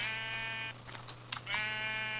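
A sheep in the Minecraft video game gives two drawn-out synthetic bleats separated by a short gap filled with faint clicks, clear and close with no talking.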